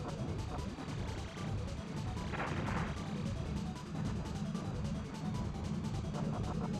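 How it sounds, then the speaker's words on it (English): Bomb blasts from a 1993 Star Fox space-combat run on the hard route, a dense roar of crashing explosions and game effects with one brighter burst in the middle, continuous and loud throughout. "All right, I'm gonna bomb them next pass."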